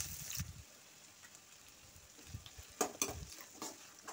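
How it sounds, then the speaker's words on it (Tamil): Onions sautéing in a pan for a paneer gravy make a faint sizzle, broken by a few soft stirring scrapes and light clinks of a spoon against the pan. "வெங்காயத்தை நல்லா வதக்கி விட்டுக்கலாம்."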